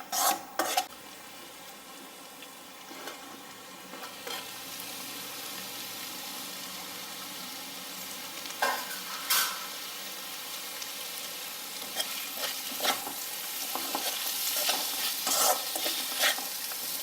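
Chopped beans and carrots stir-fried in a pan while making idli manchurian from leftover idlies: a spatula scrapes and stirs in irregular strokes over a soft continuous sizzle, with a few sharper clanks against the pan.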